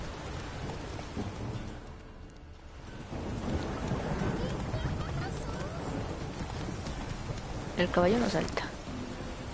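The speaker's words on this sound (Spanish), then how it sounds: "Siempre está lloviendo acá en Belén." Steady rain in The Witcher 3 video game falls throughout with a low rumble of thunder, while someone speaks briefly over it.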